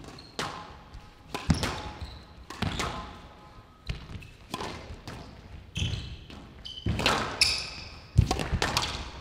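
A professional women's squash rally: the ball strikes the walls and floor with sharp cracks and thuds at an uneven, quick rhythm, with squeaks from shoes on the court floor between hits.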